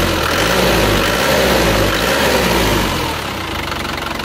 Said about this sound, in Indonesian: Seperti ini suara mesinnya.